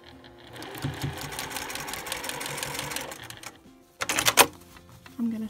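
A sewing machine stitches Dresden plate quilt pieces in a fast, steady mechanical chatter for about three seconds, stops, then gives a short, louder burst of stitching with rattling clicks before a faint hum at the end.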